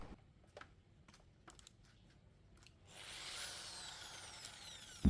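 A DongCheng DSP02-180S car polishing machine starts up after a few faint clicks and taps, then runs with a steady, fairly quiet whirring drone to the end.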